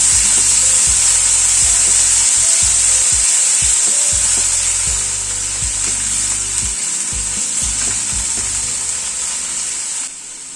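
Boiled onion paste sizzles loudly in hot oil with cracked mustard seeds and cumin, a dense continuous hiss broken by frequent stirring scrapes and taps, with no talking.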